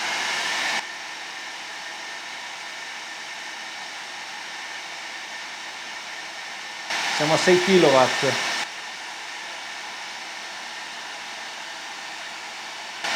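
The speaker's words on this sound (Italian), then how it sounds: "Aumento ancora la potenza dell'asciugacapelli" A hair dryer runs at high power, drawing about 6 kW from a BLUETTI AC500 power station with a B300S battery. It gives a steady, loud whooshing roar throughout, with a short spoken phrase partway through.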